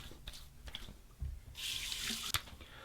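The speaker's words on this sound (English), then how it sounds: "Final rinse. Warm water rinse on the face and then cold water." Warm water runs at a bathroom sink for a face rinse after shaving, a soft steady faucet stream with a few splashes and drips, fairly quiet and close, with no voices.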